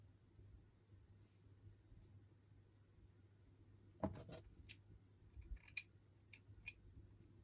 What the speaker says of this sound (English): Scissors won't cut.